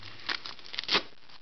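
Velcro being pulled apart on the top flap of a Transformers go bag's main compartment, giving a short crackling rip with a few louder bursts, close and alone.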